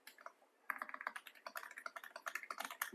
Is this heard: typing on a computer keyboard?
yes